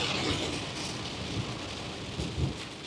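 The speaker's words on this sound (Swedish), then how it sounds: "Och när det regnar på autobahn, så jävlar när det regnar." Steady heavy rain pours down on the autobahn near Berlin while low thunder rumbles intermittently beneath it.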